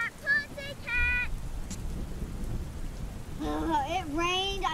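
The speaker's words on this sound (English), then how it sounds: "It's raining!" Rain pours steadily with a low rumble like distant thunder beneath it, while excited voices shout and talk over the storm at the start and end.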